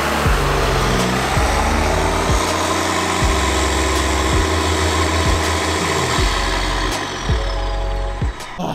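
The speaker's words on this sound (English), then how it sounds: "You can kind of just hear it revving even though I'm not even moving" A loud diesel truck engine in neutral, running away, revving steadily up close, its deep rumble rising and settling in repeated revs without pause.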